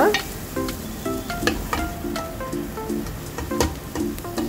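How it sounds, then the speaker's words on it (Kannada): Onions frying in a cooker for vegetable pulao give a close crackling sizzle, with repeated clinks and scrapes of a utensil stirring at an uneven pace. No talking. "ಇದು ಆನಿಯನ್ ಒಟ್ಟಿಗೆ, ಈರುಳ್ಳಿ ಒಟ್ಟಿಗೆ ಒಳ್ಳೆ ಫ್ರೈ ಮಾಡುವ"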